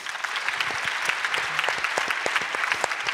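Dense, steady applause from a crowd, many hands clapping continuously throughout with no voices standing out.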